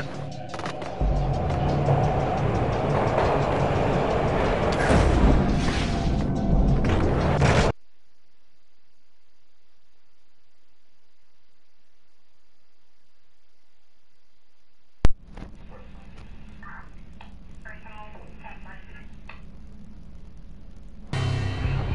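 Train ride in the Max Payne video game: loud rumbling, rattling travel noise for several seconds, then near silence, then a sharp clank and a quieter resumed rumble with clattering.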